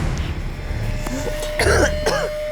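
A couple of short, harsh coughs or throat-clearing bursts near the end, loud and close, over a low steady hum with no talking.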